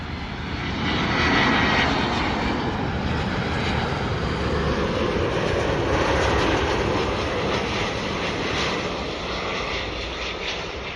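An Air France Airbus A350 comes in to land, its jet engines a loud, broad roar that swells and holds steady with no talk over it.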